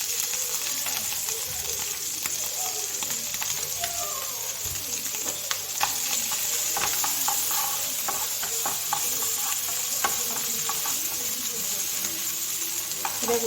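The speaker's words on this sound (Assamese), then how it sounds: "এতিয়া গুটিখিনি মই ভালদৰে ভাজি ল'ম" Bitter gourd seeds fry in a little hot oil, giving a steady close sizzle with scattered small crackles and pops throughout, and no one talking.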